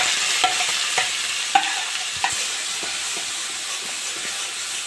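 Grated carrots fry in melted ghee in a kadai, a constant close sizzle broken by repeated light scrapes and taps of a spatula stirring.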